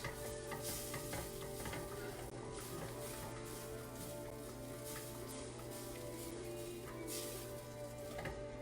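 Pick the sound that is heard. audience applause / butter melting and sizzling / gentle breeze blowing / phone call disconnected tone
butter melting and sizzling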